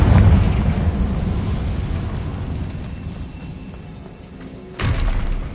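A Confringo spell blast in Hogwarts Legacy gives a loud, heavy boom that fades across several seconds, followed near the end by a second sharp thud.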